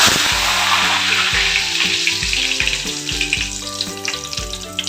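Curry leaves dropped into hot oil crackle and sizzle loudly and steadily right up close, with dense popping over a low background tone that runs throughout.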